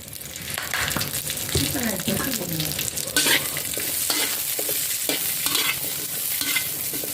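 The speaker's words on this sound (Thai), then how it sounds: "ขัวพริกก้อนพี่น้อง สูตรผมต้องใส่น้ำมันครับ" Chili stir-fried in oil in a pan makes a loud, close sizzle, with scraping and stirring strokes repeated over the frying throughout.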